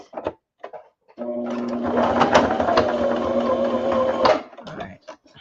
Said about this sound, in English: So all I did was I just stitched the flag